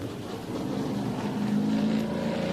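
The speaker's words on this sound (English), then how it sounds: "358 cubic inches of the angriest engine you'll hear pretty much all day out here." A 358 cubic inch race car engine roars steadily at a speed festival hill climb, a loud sustained drone with a rising pitch as it revs, heard alone without talk.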